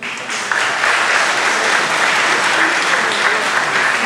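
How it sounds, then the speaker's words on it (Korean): A crowd in a university gymnasium at a competition event breaks into loud, dense applause that swells after a brief start and holds steady to the end. "방송에서 보는 분이죠 박수 한번 쳐주세요."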